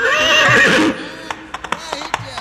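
A horse gives a loud, close, drawn-out whinny, followed by a series of sharp, irregular clip-clop hoof knocks and clatters.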